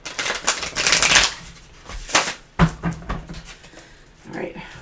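Tarot cards shuffled in quick riffling bursts, a few loud papery flurries with pauses between, close by, with a dog panting and some talk in the background.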